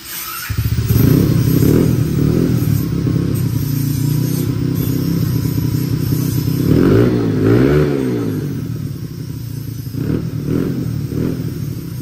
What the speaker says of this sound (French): la petite moto de compétition, elle est en préparation, les gars ils bossent dessus. Double échappement, spectaculaire.